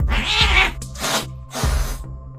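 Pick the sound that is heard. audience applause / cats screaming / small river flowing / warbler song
cats screaming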